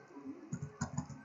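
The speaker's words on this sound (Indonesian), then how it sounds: "Nah, untuk ini bisa kita ketik" A few quiet, quick keystrokes tap on a computer keyboard in a short irregular burst, soft and close, with no voices.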